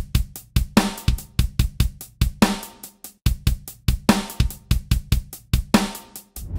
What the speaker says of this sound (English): start off with a pretty basic halftime groove